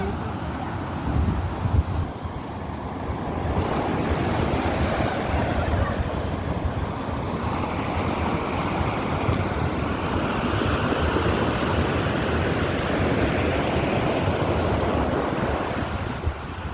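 Steady wash of beach waves rolling in continuously with wind buffeting the microphone, loud and close, a constant broadband rush with no distinct breaks and no voices.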